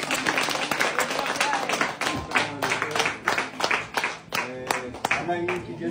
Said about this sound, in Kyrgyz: Баарыбыз кол чаап коелу.